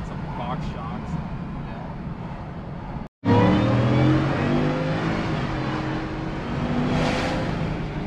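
A 2022 Ford F-150 Lariat with a Stage 2 Whipple supercharger making 775 hp, its engine roaring hard under heavy throttle from inside the cab, with the pitch climbing as it accelerates and people talking over it.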